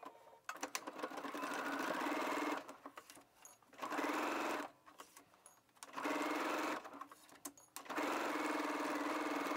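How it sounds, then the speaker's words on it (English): A sewing machine stitches the shoulder seams of a dress at a 5/8-inch seam allowance, running in three steady bursts separated by short pauses, close and loud with no talk. "We're gonna sew our shoulder seams at 5/8 of an inch seam allowance."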